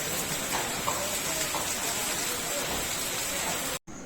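Rain falls steadily on a pavilion under construction as workers carry on in raincoats, a dense even patter close by that cuts off abruptly near the end.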